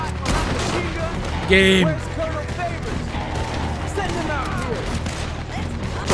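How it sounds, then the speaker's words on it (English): Gunfire aimed at a wooden plank structure in Red Dead Redemption 2, a sharp shot burst with a ringing tail near the middle, set against a dense bed of steady game noise with a voice talking through it. "I'm shooting at a plank, a wooden structure."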